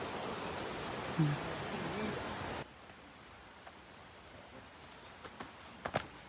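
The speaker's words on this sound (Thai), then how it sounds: "น้ำตกมินุครับในป่าสวยมากเลย" Minoo waterfall in a wooded forest park near Osaka gives a steady, broad rush of falling water for a couple of seconds. It then cuts to a much quieter outdoor scene with a few faint taps and rustles.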